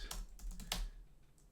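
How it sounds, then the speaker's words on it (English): A short burst of soft keystrokes on a computer keyboard, a handful of quiet clicks in quick succession, faint and close by. "if I type in this"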